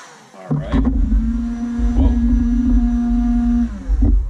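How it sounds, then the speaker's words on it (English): A heat gun blows steadily onto color shifting paint, a strong hum that holds for about three seconds with some low rumble beneath, then cuts off. "And we're going to hit the heat gun."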